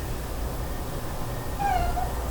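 A pet cat gives a single short meow late in the clip, faint and slightly distant over steady low room noise, with no talking.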